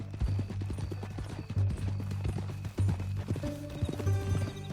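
Horse hooves clip-clopping in Red Dead Redemption 2, a steady walking rhythm over a low music bed with ambient game sound, fairly loud and continuous throughout.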